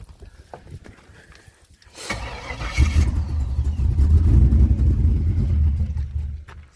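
A Chevy truck with a freshly swapped BTR cam starts up and settles into a deep, loping idle that rumbles steadily and close after a brief quieter lead-in.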